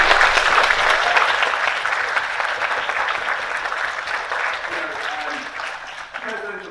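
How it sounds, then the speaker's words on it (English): A student union leadership election debate audience gives a loud round of applause that gradually fades, with a voice beginning to speak as the clapping dies away. "Can we just get maybe one more round of applause for the bravery to come on stage?"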